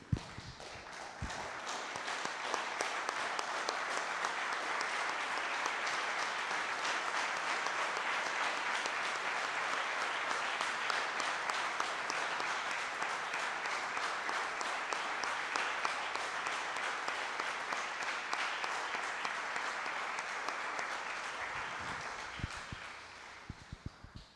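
A church congregation at a memorial service gives a long standing ovation, with sustained, dense clapping that swells, holds steady for about twenty seconds and then thins out into scattered final claps.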